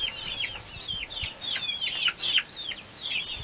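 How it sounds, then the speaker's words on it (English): Chickens call outdoors as they come out of their coop, a string of repeated high chirping clucks at steady pace, moderately close, with no talking during the calls. "the chickens are coming out"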